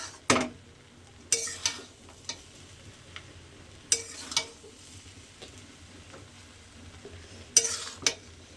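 White polao rice scraped and stirred in a pan in intermittent bursts of scraping, with a soft sizzle between strokes; close and alone, no voices.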